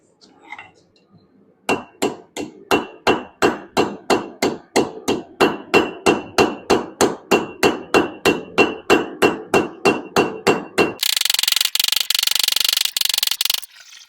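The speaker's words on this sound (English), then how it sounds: "I kind of want to use a hammer for this last little bit" Steady hammer blows ring out one after another in a fast, even rhythm as a Viking sword blade is forged by hand, about two dozen loud metallic strikes, then a harsh continuous roar takes over at the end.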